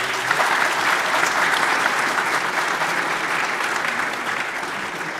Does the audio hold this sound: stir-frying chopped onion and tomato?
no